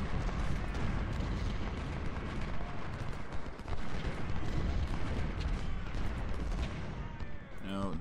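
Dense, continuous musket and artillery fire from the Civil War strategy game Ultimate General rages loud for the whole stretch, a rolling battlefield roar of overlapping shots and booms with no pause.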